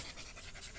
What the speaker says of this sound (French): il y a le halètement des chiens que vous entendez